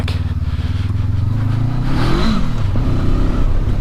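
A stock 2019 Honda CB500X motorcycle ridden off-road in first gear in Oregon, its engine droning loud and close with a steady low throb, revving slightly midway amid faint scraping.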